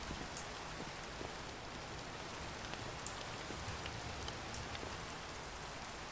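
Steady rain falling in the Minecraft video game, a constant soft hiss of drops on surfaces with faint scattered patters, even and continuous throughout with no talk.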